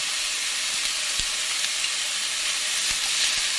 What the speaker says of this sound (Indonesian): Ditumis hingga wangi.